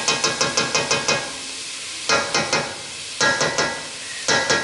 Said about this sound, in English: I'm just stirring up, just stirring my onions. I'm gonna let them saute for a little bit